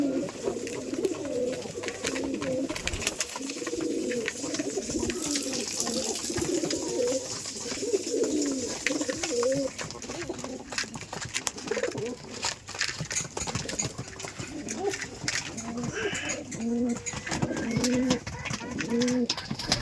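Rajshahi Giribaz pigeons coo continuously at close range, soft throaty rolling calls overlapping one after another with rustling and fluttering in the background.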